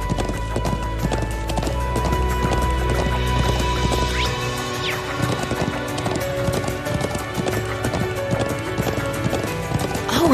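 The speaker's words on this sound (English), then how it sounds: "I'm glad I still remember how to ride a horse." Steady galloping horse hoofbeats from the video game Trails of Cold Steel II pound in a fast, even rhythm, up close and loud, with music playing underneath.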